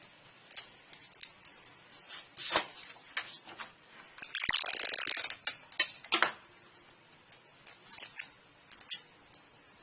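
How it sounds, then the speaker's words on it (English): Scissors trim tape on a 1:200 scale model airport terminal: a run of small snips and crisp clicks, with a brief crinkly burst of handled tape near the middle, close and quiet with no talking. "And then we trim the tape."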